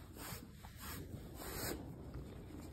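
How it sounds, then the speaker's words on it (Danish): A stripping saw, a grooming rake, drags repeatedly through a dog's coat to pull out loose fur, giving a steady close scratchy rubbing with a few stronger strokes. "Nu bruger jeg Ava-saven."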